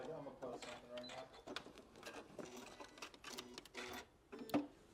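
A sewing machine back-tacks a seam on a bucket hat in short, quiet bursts of rapid stitching, mixed with a voice talking throughout.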